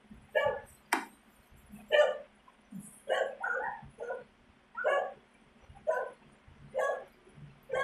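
A pet dog barks in repeated loud, close bursts at arriving Amazon delivery workers, about one bark per second across the whole stretch, with no talking.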